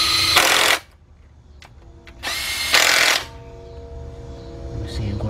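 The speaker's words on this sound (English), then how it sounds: "we got all the 13 millimeters tightened up." Power tool tightening 13 mm oil pan bolts on a 2005 Cadillac CTS 3.6 with a knocking engine, two loud whirring bursts separated by a pause, with faint clicks and a low hum in between.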